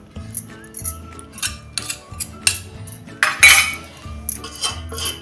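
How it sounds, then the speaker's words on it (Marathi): A spoon stirs semolina ladoo mixture in a pan, making repeated light metallic clinks and scrapes against the pan, close and fairly regular, over a soft steady musical background. "आता हे मध्ये मध्ये हलवत राहायचं आहे."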